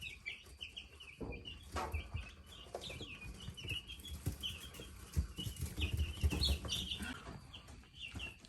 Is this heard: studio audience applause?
no